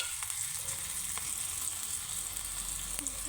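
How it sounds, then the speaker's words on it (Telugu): Vegetables cooking in a pan for pachipulusu, a steady close sizzle with light stirring scrapes, continuous throughout and heard alone without talk. "చూడండి, కొంచెం ఇలా కలుపుకోండి, అంతా మగ్గాలి కదండి."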